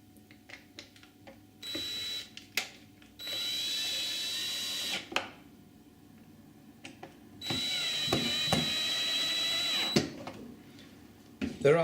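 A power drill drives two anchoring screws into an adjustable Euro rebate door hinge on a door sash, running in two loud sustained bursts of a couple of seconds each, separated by quieter handling clicks and taps.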